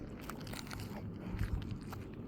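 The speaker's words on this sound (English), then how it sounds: "I'm chewing gum right now if I sound like that." Gum being chewed right at the microphone, with soft, close, wet crunching and smacking bites that repeat irregularly for a couple of seconds.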